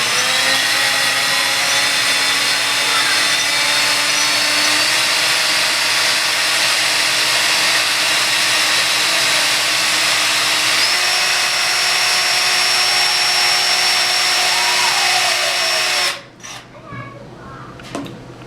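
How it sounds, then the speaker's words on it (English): A power drill fitted with a countersink bit bores into a steer horn, giving a loud sustained whine with slight pitch shifts before it cuts off near the end, followed by a few faint handling knocks. "And we're just going to use a simple countersink"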